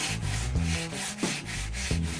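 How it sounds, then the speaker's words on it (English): A sanding sponge rubs back and forth across wood, smoothing out deep scratches and splinters on a rod holder, giving a close, steady abrasive scrubbing with regular strokes and no talking. "Then we smooth out deep scratches and splinters using a sanding sponge."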